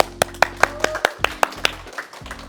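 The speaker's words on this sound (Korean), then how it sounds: "큰 박수로 모시도록 하겠습니다." Scattered audience clapping to welcome a tenor at a prenatal class event: about ten distinct, sharp claps in loose rhythm over a low background hum.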